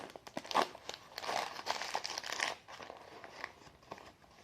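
Paper wrapping around a nearly 30-year-old Guangdong tea crinkles and crackles close by, with irregular bursts of crumpling rustles that fade to quieter handling toward the end.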